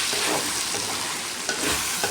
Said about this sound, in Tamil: தேங்காய் பூ போட்டு கிளறி விட்டுக்கணும்